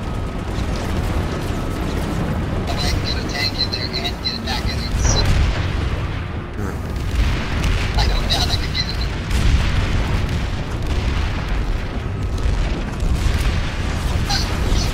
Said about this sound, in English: I probably would have survived that explosion if I had flak armor